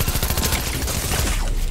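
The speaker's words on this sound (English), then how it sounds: "On me, someone's shooting me." Rapid enemy gunfire in a multiplayer shooter game, a loud, steady stream of close shots crackling without pause.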